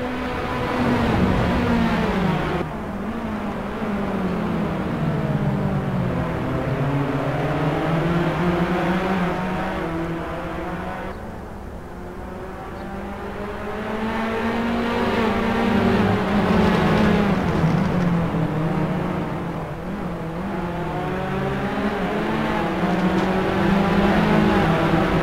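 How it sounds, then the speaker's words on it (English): Three race cars in the Assetto Corsa sim racing game sweep past on the Nürburgring at the start of a lap, with engines droning and rising and falling in pitch as they pass one after another. The sound is loud and continuous, with no talking. "So three cars come through to start lap 9."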